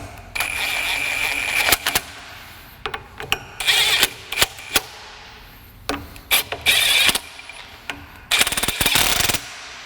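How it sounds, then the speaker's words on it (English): Impact wrench running Loctite-coated bolts down snug on a Ford 8.8 rear axle during assembly, heard as several short buzzing bursts of varying length separated by pauses, close and fairly loud in a garage. "I'm just going to run them down with the impact just till they're snug."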